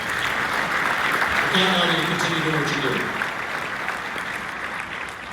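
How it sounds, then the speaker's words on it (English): Dinner-event audience at the Erie County GOP Lincoln Day Dinner gives loud, sustained applause that fills the hall throughout, while someone speaks over the clapping for a few seconds. "So give Jeff another round of applause."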